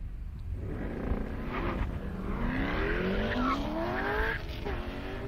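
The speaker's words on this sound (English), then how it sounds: "This new C8 Corvettes have a pretty good launch control." A C8 Corvette launches down a half-mile airstrip drag race, its engine rising through the gears in a loud, sweeping roar with tire noise as it pulls away.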